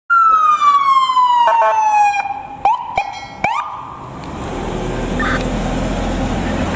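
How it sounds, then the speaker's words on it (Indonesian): A toy ambulance siren wails loudly and close, with a sweeping electronic tone and a few clicks, then fades into steady background noise. "Mobil ambulan."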